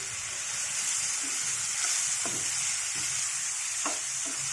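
Asafoetida fries in hot oil in a pan for amla and green chilli chutney, a steady close sizzle with a few light stirring taps.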